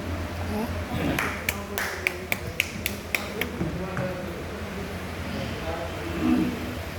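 Audience members at a gathering give a short run of sharp, separate claps. The handful of distinct claps sounds over steady background murmur and room noise, then fades back into the hubbub.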